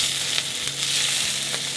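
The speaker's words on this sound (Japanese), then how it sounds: "まず油が多いところから焼き始めて" The fatty edge of a bone-in lamb chop searing in a pan, a loud close continuous sizzle with faint crackles and no voices.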